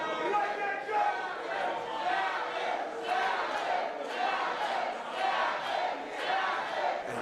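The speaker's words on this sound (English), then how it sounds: "You hear this crowd here in St. Helena is firmly behind PJ Savage" Wrestling crowd in St. Helena roaring and chanting for PJ Savage during a pro wrestling bout, a dense sustained wall of cheers with rhythmic surges, voices blending throughout.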